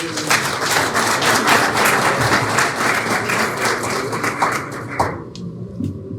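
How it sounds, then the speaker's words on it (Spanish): An audience at a talk claps loudly and continuously for several seconds, then the applause stops abruptly and a few scattered claps linger as a voice starts speaking. "Un aplauso para ella."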